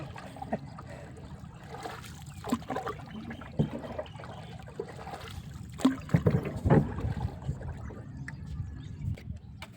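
A rowboat paddled on the Mae Klong river while fishing for river prawns: soft water sloshing and dripping under oar strokes, with a few knocks and splashes. The sounds are close, low and steady, with no voices.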